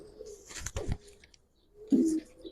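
A single male cheeta giribaz pigeon gives a low, close coo, one soft rolling call after a brief rustle and thump of handling, then quiet before the coo returns.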